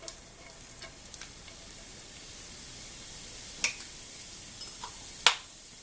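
Garlic and chopped green onion sizzle in a hot pan, a steady soft frying hiss with a few sharp crackles and pops.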